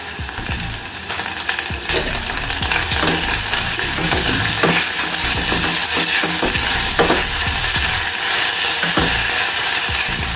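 Crushed ginger garlic paste and curry leaves fry loudly in a pan, giving a dense continuous sizzle close by, with repeated scraping stirs of a spatula throughout and no talking.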